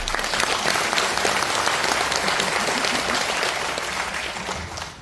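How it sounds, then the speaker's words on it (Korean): Warm, sustained applause from an audience at a policy forum in the Korean National Assembly, dense clapping that holds steady for several seconds and gradually tapers off. "네 분의 주최해 주신 의원님들께 큰 박수 한번 부탁드립니다"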